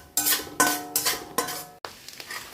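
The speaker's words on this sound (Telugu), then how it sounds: "పన్నీర్ ఈ విధంగా ఫ్రై చేసుకోవాలండి, సపరేట్గా బాగా రోస్ట్ చేసుకోవాలండి" Paneer cubes frying in a pan with ginger and garlic, stirred in a few bursts of loud scraping and clattering against the metal, each lasting about half a second with short pauses between.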